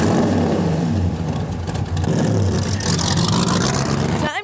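A race car engine roars and accelerates around a speedway tri-oval, a loud, close, continuous drone with shifting pitch, ending in a sharp change as the sound cuts off.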